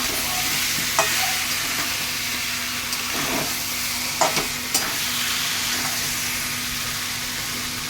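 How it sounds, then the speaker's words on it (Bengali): Papaya and potato sautéing in a pan, a steady sizzling hiss under a faint low hum, with a few scraping stirs and clinks spaced through it and no speech. "পেঁপেটা আমার পেঁপে আলুটা কষাচ্ছি, নতুন খুব সুন্দর কালার এসেছে।"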